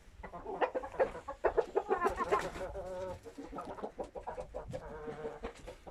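Several chickens clucking and squawking nearby in agitated, overlapping bursts that continue throughout.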